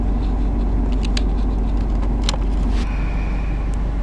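A 2.5-liter Subaru WRX STi with an evaporative purge vent valve fault code idles with a low, constant rumble, broken by a few faint clicks and taps close by, with no speech.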